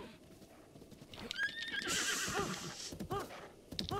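A horse in The Legend of Zelda: Breath of the Wild neighs and whinnies several times over clip-clopping hooves, close and lively, with short bursts of snorting between the calls.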